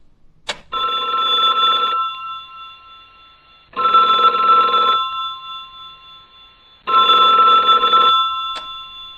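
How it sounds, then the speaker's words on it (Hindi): An old-style telephone bell rings in three long bursts with pauses between them, loud and close, with no voices. "अचानक फोन की घंटी बजी।"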